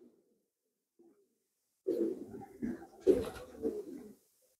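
Racing pigeons in a loft give several low, throaty coos in a short burst after a near-silent start, fairly soft and close, with a faint rustle or two.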